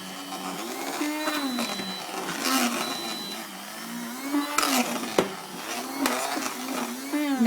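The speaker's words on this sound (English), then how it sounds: "Now my blender does have high and low, and I'm doing this on high" A blender on high speed whipping a skim milk dessert, a steady loud motor whine whose pitch rises and dips as the mixture thickens, with faint clatter and no talk.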